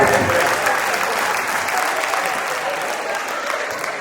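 An audience claps enthusiastically at a stand-up comedy show, a full burst of applause that gradually eases off but keeps going to the end.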